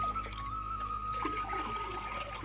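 Water pours from a watering can onto young plants in a village field, a steady, soft splashing trickle that continues through the clip at moderate distance.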